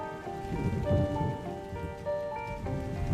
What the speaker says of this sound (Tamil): மழை பெய்யுதுடி, மழை நின்னதுக்கு அப்புறம் போகலாம்